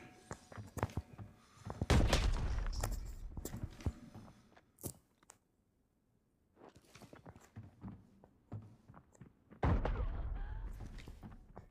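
Gunfire and explosive bursts, including a grenade blast, in the video game Arena Breakout during a motel fight, with sharp impacts and thumps in clusters, footsteps, and a quiet stretch in the middle.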